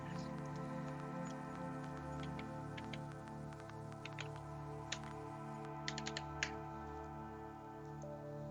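Light keystrokes on a computer keyboard while filling in a captcha on an online apprentice application form, a few faint scattered taps and short clustered clicks over a steady electrical hum.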